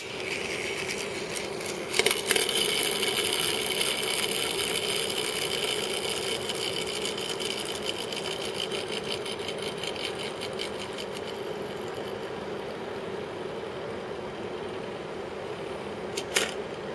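Pocket Power hovercraft toy whirring steadily after being fired from its launcher, a continuous buzzing spin close by with a sharp click at the start and another near the end.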